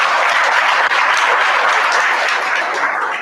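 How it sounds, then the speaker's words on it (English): Dense, steady applause fills a book discussion event at a university library, continuous clapping from a sizeable audience that holds strong for the whole stretch before tapering slightly at the end. "Let's applaud them for that."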